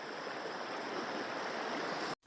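Steady rushing of a low-flowing stream over stones near Rachakonda Fort, constant and fairly close, with no voices.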